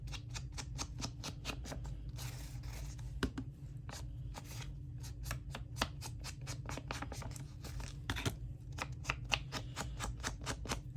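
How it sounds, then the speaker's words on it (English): Repeated rhythmic scraping strokes of scissors along paper edges, close and fairly crisp, continuing steadily with a short rustly pause. "So I don't mind just using the side of my scissors."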